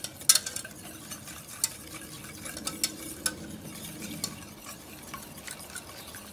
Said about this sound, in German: Dann habe ich hier einen Schneebesen und rühre das Ganze dann in die Butter ein.